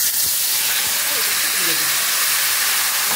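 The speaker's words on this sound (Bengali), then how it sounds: "ফোড়নের তেল গরম হয়ে গেছে, এখন আমি শাক" Leafy greens hit hot tempering oil flavoured with a whole chilli and five-spice, giving a loud, close, continuous sizzling hiss that holds steady throughout.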